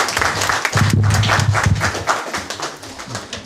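Hackathon audience applause, a dense burst of clapping that fills the room, loud and close, with faint voices mixed under it.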